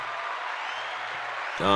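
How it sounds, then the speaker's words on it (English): Hand clapping during an online health talk forms a steady, close patter of claps, then a voice cuts in just at the close. "Let's get a hand clap."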